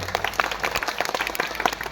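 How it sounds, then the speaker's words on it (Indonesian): Audience at an evening Islamic school graduation gathering clapping, scattered uneven claps with individual hand strikes standing out over a noisy crowd background, fairly close and moderately loud. "Tepuk tangan untuk acara malam hari ini."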